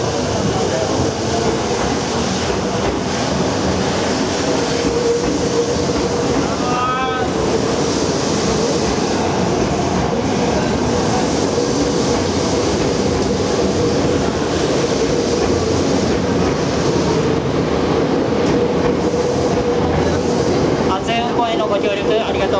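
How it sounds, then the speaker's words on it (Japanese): An out-of-service Tokyo Metro 6000 series subway train rumbles and roars steadily as it pulls out of Kasumigaseki station, loud and continuous, with brief squeals and platform announcements heard over the noise. "回送電車動きます。ご注意ください。"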